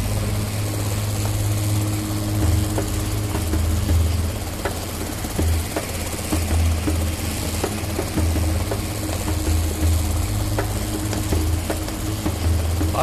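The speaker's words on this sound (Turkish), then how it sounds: "Aa şimdi de bir pırpır." A steady motorcycle engine idles nearby with a low, throbbing rumble and a few faint clicks over the top, continuing without a break.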